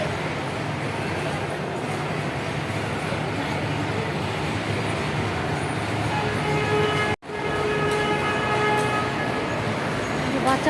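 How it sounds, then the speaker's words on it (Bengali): A children's ride train runs through the busy City Centre shopping mall in Siliguri, its steady rolling rumble and a tooting horn carrying over a constant wash of crowd noise and distant voices. "বাচ্চাদের ট্রেন চলছে,"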